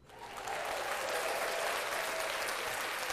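A crowd breaks into steady, dense applause that swells within the first half second and holds strong, loud throughout, with no talking over it, at a live NBA playoffs preview podcast taping.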